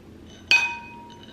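Fancy glasses of eggnog clink together once in a Christmas toast, a single bright, close chime that rings out and fades over about a second against quiet room tone.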